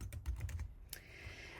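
Quick typing on a computer keyboard while working in Adobe Illustrator, a rapid run of soft, close key clicks followed by a brief pause and one last tap.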